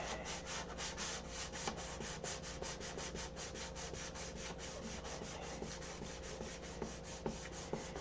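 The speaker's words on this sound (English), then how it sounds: "If you listen to the sandpaper, let the sandpaper talk to you." Sandpaper rubbing steadily over a clear coat finish, a close, even rasping in quick regular back-and-forth strokes that run without pause, no voices.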